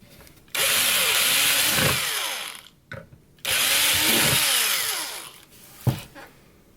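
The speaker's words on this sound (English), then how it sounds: "I'm gonna drill a hole though through the eye so that the Apoxysculpt grabs the eyeball." A power drill bores through the eye socket of a Halloween store plastic skeleton in two loud whining bursts of a couple of seconds each, separated by a short pause, with a brief clunk at the end.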